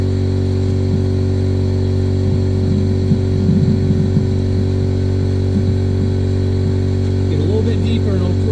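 A Keene 2-inch gold dredge's small engine runs close by with a steady, buzzing drone and strong low hum, unchanging from start to finish, while faint talk and splashes come through near the end.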